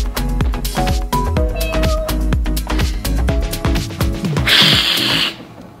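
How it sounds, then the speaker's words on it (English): A cat meows as a sound to guess during a children's church game, with clear tonal cries heard close and loud over a busy, steady backdrop. "If you guess cat, kitten, kitty, anything similar, you got it"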